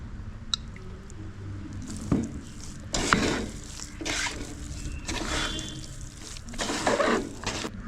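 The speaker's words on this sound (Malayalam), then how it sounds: "ഇനി പൊടിഞ്ഞു പോവാതെ നന്നായിട്ട് മസാലയൊക്കെ തേച്ച് പിടിപ്പിക്കണം" Hands rub masala onto needle fish, giving close, wet squishing and smearing sounds in uneven bursts, with a few small clicks and no speech.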